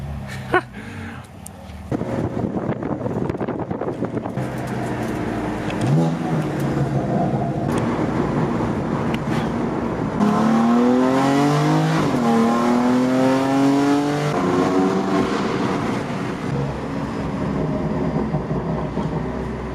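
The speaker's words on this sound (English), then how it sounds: "Look at this, the BMW M2 race car." A BMW M2 race car pulls hard around the Nurburgring Nordschleife, its engine note climbing through repeated rising pitch sweeps as it runs through the gears, loud and continuous from start to finish.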